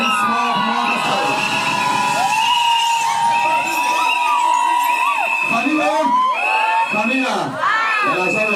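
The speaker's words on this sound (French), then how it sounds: "Est-ce qu'on peut faire un tour d'applaudissement pour mon Pascal?" Cheering for Pascal at a customary wedding, with a crowd whooping, ululating and shouting continuously at close range and a few claps mixed in.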